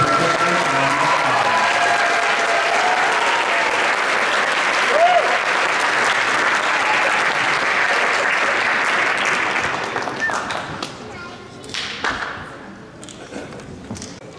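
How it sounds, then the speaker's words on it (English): A science fair audience applauds its junior and senior award winners with sustained, dense clapping across a large hall, tapering off into scattered claps near the end. "If we could give all our award winners a quick round of applause."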